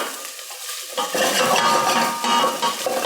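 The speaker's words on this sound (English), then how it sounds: "Take an average wood spoon, give that a stir." A wooden spoon stirs garlic in a soup pot, scraping and knocking against the metal over a bright, steady sizzle, with the stirring growing busier after a quieter opening moment.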